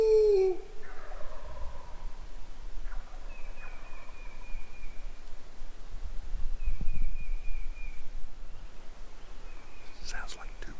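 Several distant wild turkey gobbles, from two or three toms, ring out in bursts across an open outdoor setting during pre-season scouting, with a faint rustle and soft noise in between.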